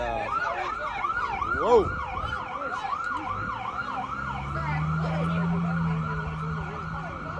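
An ambulance siren wails through New York City streets, its rising and falling yelp cycling steadily as it passes close by and loud, with a brief voiced exclamation and street noise underneath.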